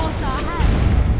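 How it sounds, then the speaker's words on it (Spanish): A magic fireball explosion in Dragon Age: Origins bursts as a short, loud, booming blast with a rumbling low tail, very close and filling the brief moment. "explosión mágica aquí"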